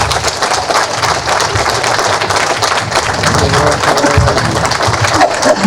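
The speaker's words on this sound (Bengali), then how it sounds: "সবাই করতালির মাধ্যমে অভিবাদন জানাবেন" Dense, sustained applause from an audience at a Munshipara community committee oath ceremony, a close, continuous patter of many hands clapping without pause.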